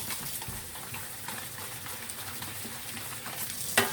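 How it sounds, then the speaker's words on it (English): A plate being scrubbed at the sink while dishes are washed by someone with long nails: steady, close, gritty rubbing strokes in a continuous rhythm, ending in a couple of sharper knocks. "And I just scrub my plates"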